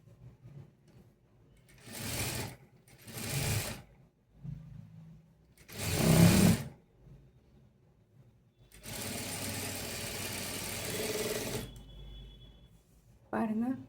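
Sewing machine stitching along the folded hem of a three-dart blouse, running in several loud bursts of varying length with brief pauses between, nearby and clear, the longest run lasting about three seconds.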